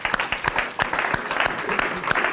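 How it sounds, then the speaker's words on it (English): A short burst of enthusiastic clapping from an audience, sharp individual claps layered into a brisk, lively round of applause. "And round of applause there."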